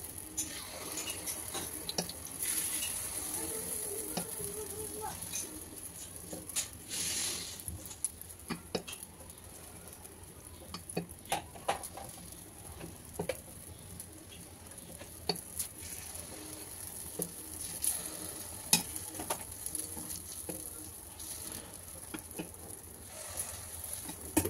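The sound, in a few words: rice appe batter poured into a hot appe pan, sizzling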